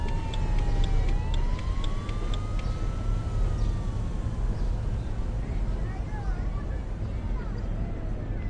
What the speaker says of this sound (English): the sound of an emergency vehicle approaching in the distance